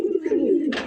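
A white Jacobin pigeon gives a single drawn-out, wavering coo at close range, ending in a brief brighter rustle.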